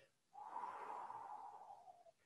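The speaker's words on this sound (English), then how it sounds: "you exhale through your mouth for 8 while making a whooshing sound like this" One long, steady whooshing exhale through the mouth as part of 4-7-8 breathing, close and soft, drawn out for nearly two seconds before trailing off.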